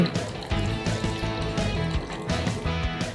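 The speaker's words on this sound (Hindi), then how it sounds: "थोड़ा और पानी मिला के" Water is mixed into instant microwave dhokla batter already holding baking soda, baking powder and sugar, giving a soft sloshing and liquid churning in uneven bursts, close by.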